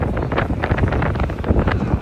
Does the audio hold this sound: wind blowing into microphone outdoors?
yes